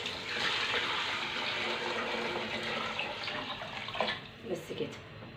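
Tap water gushing from a kitchen faucet into a cooking pot, a steady close rush that thins and splashes toward the end.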